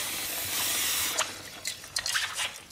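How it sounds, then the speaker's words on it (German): Lubricant spray hisses onto a motorcycle chain during winter preparation, a long steady near hiss for over a second followed by several short bursts and drips, with no talking. "nehmen wir das gute Mittel und sprühen die Ketten ein"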